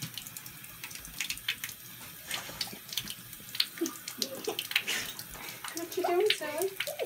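Water splashing and sloshing in a filled bathtub, with soft movement noises and a voice chattering nearby.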